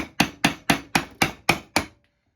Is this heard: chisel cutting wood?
yes